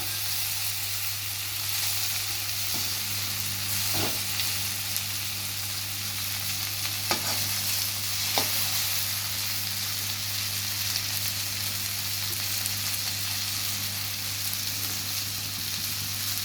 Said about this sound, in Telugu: ఇలాగ లైట్గా అంత కలిసే విధంగా పైకి కిందకి వచ్చే విధంగా కలుపుకోవాలి ఒకసారి